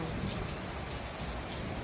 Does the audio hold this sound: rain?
yes